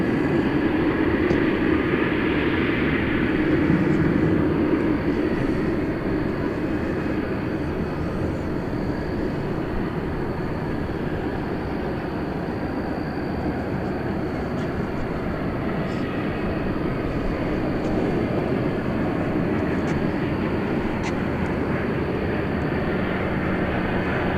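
An American Eagle Embraer 175 regional jet from Laredo, Texas, arriving at Dallas Fort Worth Airport, heard as a steady, broad jet engine roar that holds fairly loud and even throughout, with a slight swell early on and no talk.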